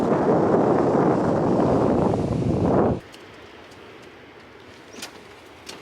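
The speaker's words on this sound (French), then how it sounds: "Il y a beaucoup de vent." Loud, steady roar of strong wind on a beach at Lucky Bay buffeting the microphone for about three seconds, then dropping to a quieter background with faint rustles and light crackles.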